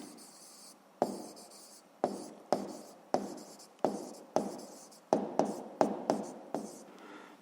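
A pen writes notes by hand on paper in about a dozen separate scratchy strokes, each starting sharply and fading, close and clear against near silence with no voice over them.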